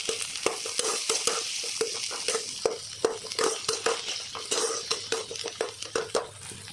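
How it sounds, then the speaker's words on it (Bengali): Roughly chopped onions frying in hot oil, a bright crackling sizzle under rapid, rhythmic stirring strokes with a utensil clinking against the pan, close and continuous with no voices. "এখন এই পেঁয়াজগুলোকে ভেজে নেব, একদম রাফলি চপ করা।"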